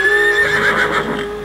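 A horse neighs in a long, loud, quavering whinny that rises and falls over a background of steady tones, with faint hoof-like thuds beneath and no speech.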